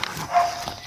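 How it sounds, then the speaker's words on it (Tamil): A dog gives a single faint, short bark somewhere at night, distant and brief against quiet background noise. "நாய் குலைக்குது ப்ரோ தூரத்தில்"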